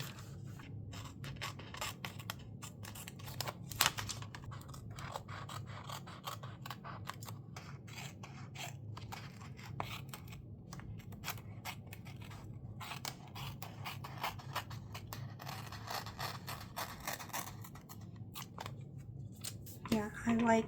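Scissors cutting paper for a Dutch door planner spread: quiet, continuous rapid snipping and rustling close up, with people talking at times over the cutting.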